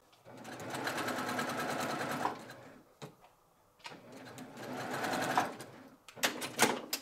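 A multi-needle embroidery machine stitches in two long rapid mechanical runs, separated by brief pauses and a few short clacks, fairly close and with no voices.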